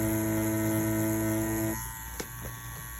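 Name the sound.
Mummy wireless tattoo machine buzzing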